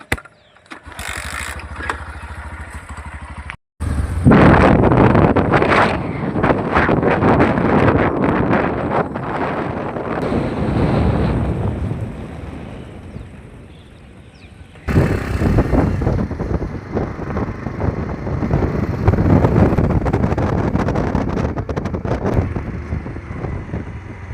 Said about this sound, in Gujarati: હવે બાઇક બાઇક ચાલુ કરી દઈએ છીએ